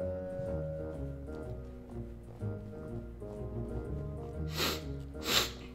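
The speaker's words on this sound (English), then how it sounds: "Ah, that was just a sniff for me." Two short, sharp sniffs near the end, a loud nasal intake over steady game music while playing Night in the Woods.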